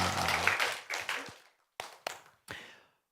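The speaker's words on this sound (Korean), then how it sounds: "하나님께 영광의 박수 올려드리겠습니다." Church congregation clapping together in praise to God during a Sunday worship service, a brief burst of applause that fades out, followed by a few isolated sharp claps.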